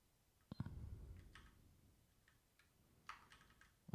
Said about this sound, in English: I'm just typing things randomly.